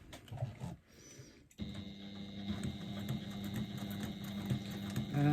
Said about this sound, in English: So I'm going to top stitch at about 1/8 of an inch down both sides.